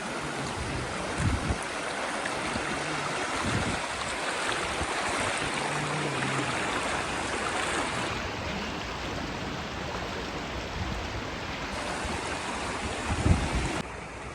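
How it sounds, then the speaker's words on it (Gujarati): Floodwater rushing along a road after heavy rain, a continuous loud broadband roar of flowing water that stays steady throughout with a brief thump near the end. "આખા રોડમાં નીકળ્યું પાણી જ જાય"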